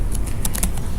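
Rapid clicking of keys on a computer keyboard while coding in Python, a quick uneven burst of about half a dozen crisp, close keystrokes with no speech.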